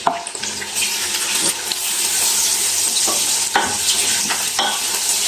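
Onions frying with ginger-garlic paste for a potato and capsicum dish, a steady loud sizzle broken by repeated scraping stirs of a spoon in the pan, with no talk.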